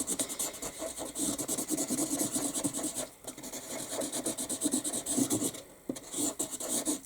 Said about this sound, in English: you can literally just use the chisel end and scribble over the top